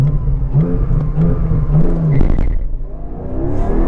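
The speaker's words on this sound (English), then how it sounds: "Bit of revs." A 2021 Porsche 718 Cayman GTS 4.0 engine revs up and down close by, a throaty rising and falling roar with a couple of sharp blips.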